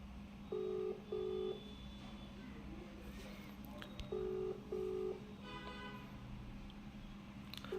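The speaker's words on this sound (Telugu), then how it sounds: "రింగ్ అవుతుంది బాస్" A telephone call tone sounds in pairs of steady electronic beeps, two long tones repeated at intervals, over a background hum and faint room noise; a voice is briefly heard in the background.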